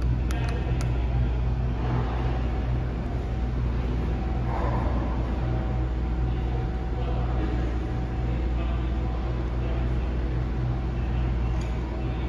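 An Otis traction freight elevator runs with a steady, low mechanical rumble and hum, continuous and fairly close, with a faint high whine above it.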